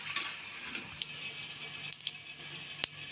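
Semolina sweets frying gently in hot oil, a steady soft sizzle running throughout with a few sharp isolated pops and crackles near the start, middle and end.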